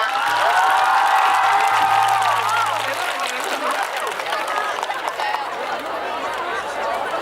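A festival crowd at Ewha Womans University applauds after a band's set, loud sustained clapping mixed with cheers and chatter, with a voice speaking briefly over the noise early on.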